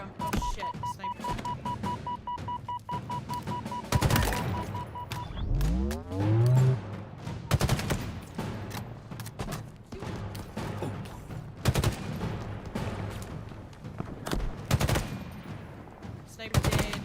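Rapid sniper rifle fire and bursts of gunshots in the video game Halo Infinite, loud sharp cracks repeating irregularly through a busy combat mix with explosive booms.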